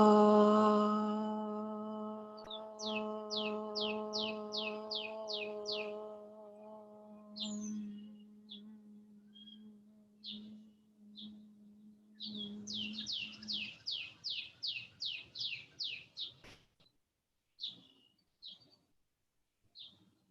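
A bird sings repeated rapid trills, near and clear, during a gentle yoga session. At the start a long sustained chanted tone sounds with the song, and faint pauses separate the later phrases.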